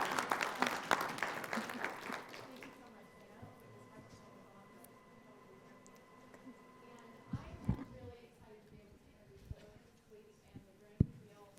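A crowd at a tribe night gathering bursts into loud applause that fades after about three seconds, leaving a quieter room with scattered claps, thumps and murmuring voices.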